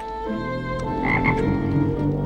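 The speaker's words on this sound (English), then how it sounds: "That frog came out of that pot quite unimpressed." A frog in The Nightmare Before Christmas croaks in a deep, throaty, sustained rasp lasting about two seconds, close and clear against a soft film score, with no talking.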